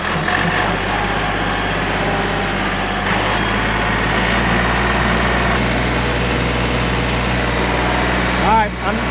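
A tractor engine idles with a steady low rumble throughout, with a faint higher whine layered on top and a brief swell near the end.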